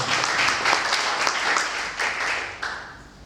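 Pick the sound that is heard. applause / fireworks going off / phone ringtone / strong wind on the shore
applause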